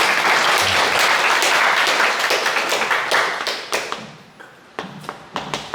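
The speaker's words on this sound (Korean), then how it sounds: "너무 좋은 질문 해주는데 박수 한번 쳐주세요." A lecture audience claps, loud and dense at first, then breaks into a thinning patter of separate hand claps that fade out near the end, with no talk over it.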